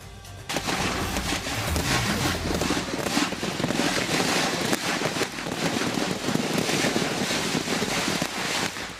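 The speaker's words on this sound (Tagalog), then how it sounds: "nang sindihan ng Quezon City Police District ang mga illegal na paputok na nakumpiska" A dense, continuous barrage of confiscated illegal firecrackers being destroyed by Quezon City police, crackling and popping loudly, rapid bursts overlapping without pause for several seconds.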